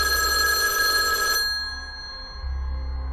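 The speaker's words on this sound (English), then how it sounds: "One Tuesday at 2:15 a.m., the phone rang." A telephone rings in the small hours, a bright electronic tone held for over a second and then cut off, leaving a low steady hum underneath.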